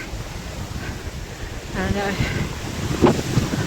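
Strong wind roars and buffets the microphone steadily at a hilltop summit on the Colonial Knob walkway. A person speaks briefly beneath the gusts.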